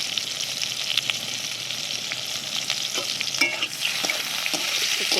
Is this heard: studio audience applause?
no